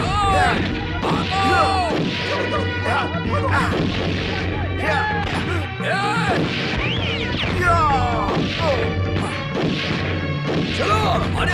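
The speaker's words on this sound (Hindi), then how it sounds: "गोली चल रही है, भागो!" Gunfire and crashing impacts in a Bhojpuri action movie scene, loud dense bursts of shots and bangs repeating throughout, with shouting voices mixed in.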